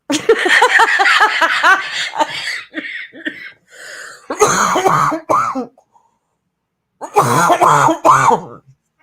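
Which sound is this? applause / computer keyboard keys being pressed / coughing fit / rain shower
coughing fit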